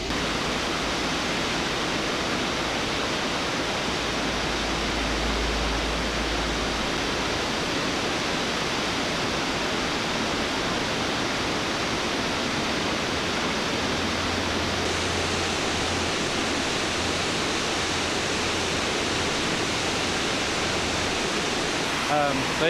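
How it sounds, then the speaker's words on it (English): Curly Creek Falls in Washington pours with a steady, dense, unbroken roar, loud and constant throughout with no pauses. "here's Curly Creek Falls"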